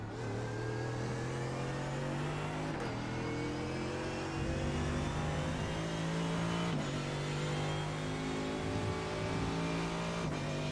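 Simulated race car engines in iRacing drone and rev steadily, with tones dropping at a few gear shifts around every few seconds, the sustained whine of a GTE car in traffic continuing throughout without voices.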